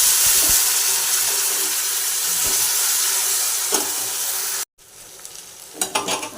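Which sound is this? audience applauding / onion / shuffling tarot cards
onion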